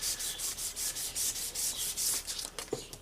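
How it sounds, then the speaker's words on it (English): Abrasive grit rubbed by hand along a wooden fillet knife handle in quick back-and-forth strokes, a rhythmic close scratchy rasp repeating about every quarter second, ending with a few light knocks. "it doesn't take a whole lot of strokes at this grit to wipe away the evidence of the previous grit."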